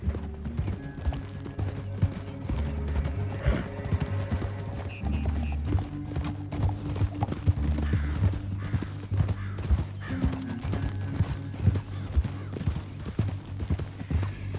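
Horse hooves clip-clopping in the Western video game Red Dead, rapid rhythmic beats over a low droning game score, with occasional mechanical clicks mixed in and no talking.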